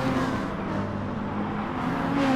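Race cars, including Lexus models, in a racing video game make a continuous engine drone with steady tonal whine. The sound stays even and loud throughout, with no pauses.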